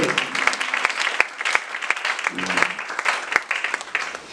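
A church congregation claps and cheers for the Lord, a dense, steady round of applause with sharp individual claps standing out and faint voices mixed in.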